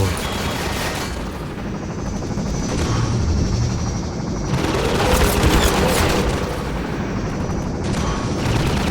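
Combine gunship helicopter in Half-Life 2: Episode One, a loud continuous rotor roar mixed with dense rattling gunfire and blasts, swelling and easing without pause.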